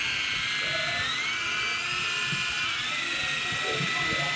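E-flite MCX2 coaxial RC helicopter with counter-rotating blades, its small rotors and motor whining steadily and close throughout, pitch shifting slightly as it flies, with people talking faintly underneath.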